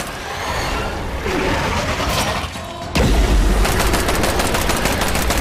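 Gunfire in the video game State of Decay 2, with bursts of loud close shots and mechanical clatter and a sharp jump to rapid automatic fire partway through.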